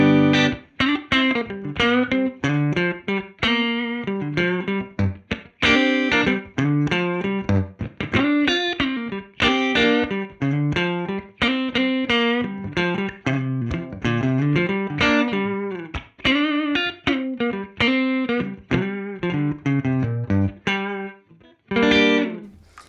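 An electric guitar plays through a UAD Showtime '64 tube amp with room reverb, picking a lively, continuous melodic line with a warm, slightly driven tone and a soft reverberant tail, unaccompanied.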